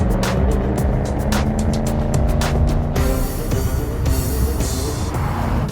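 A 2013 Shelby GT500 Super Snake, an 850-horsepower supercharged V8, roars loud and close as it accelerates, with a dense, continuous engine rumble that rises and swells midway through.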